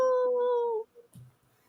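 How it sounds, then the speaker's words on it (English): A sustained, mournful wolf howl from the horror-comedy film WolfCop, heard alone and fairly close, holding a steady pitch for under a second before breaking off, followed by a faint brief rustle. "Obligatory howl."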